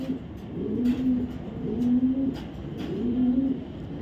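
Racing pigeons coo nearby in several soft, rolling calls, one after another, over a quiet background hum.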